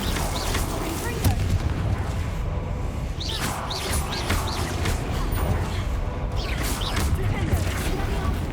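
Spell blasts such as Confringo crackle and boom repeatedly through Hogwarts Legacy combat, with bursts and whooshes layered over continuous dense game noise and background music.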